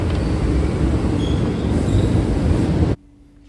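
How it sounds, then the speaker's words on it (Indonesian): A KRL Jakarta Kota commuter train runs straight through Gambir station without stopping, a loud, steady rolling rumble with wheel noise that cuts off abruptly near the end, leaving a quiet hum. "ada KRL Jakarta Kota, dan KRL ini tidak berhenti di stasiun Gambir ya teman-teman, dia hanya melintas langsung."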